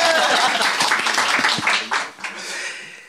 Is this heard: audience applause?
yes